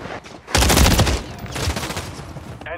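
Call of Duty Modern Warfare 3 multiplayer match with a loud burst of rapid automatic gunfire from close by, sustained for about two seconds before cutting off, with a faint radio-style voice callout at the end.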